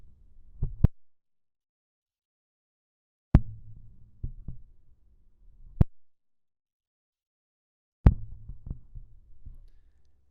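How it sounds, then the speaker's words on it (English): An on/off switch on an NW40 microphone is flipped several times, giving four sharp isolated clicks with soft thumps, separated by silence. "the switch definitely makes noise on the NW40"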